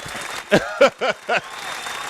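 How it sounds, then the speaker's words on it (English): A studio audience welcomes a guest on a talk show with applause and a few loud, short vocal whoops in a row, heard close and fairly loud. "Round of applause for that."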